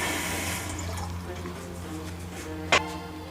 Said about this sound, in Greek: Γεμίζουμε μια κατσαρόλα με νερό